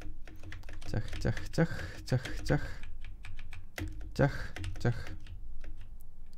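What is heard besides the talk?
computer keyboard keys clicked, space bar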